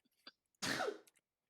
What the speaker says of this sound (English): Bless you, Lane.